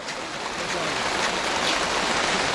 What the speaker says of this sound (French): Il pleut à torrent sur Ifat Hassan.